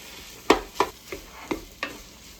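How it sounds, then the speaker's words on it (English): Ground pork cooks in a pan for a cheesy breakfast casserole, with five distinct scraping stirs of a utensil spaced about a third of a second apart over a faint sizzle, close and alone. "We're just going to keep it moving because we want to break this pork up as best we can."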